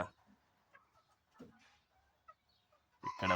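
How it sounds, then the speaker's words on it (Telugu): A few faint, scattered clucks from chickens kept at a farm house in Wafra, Kuwait, sounding soft and sparse against a quiet background, with a louder burst at the end. "కోళ్ళు పెంచుతున్నారు."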